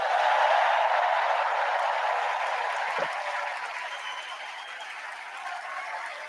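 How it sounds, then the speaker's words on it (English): Audience applause for the First Lady, Jill Biden, a broad even wash of clapping that slowly fades a little, heard alone without talk. "Let's give a special round of applause to our First Lady, Jill Biden."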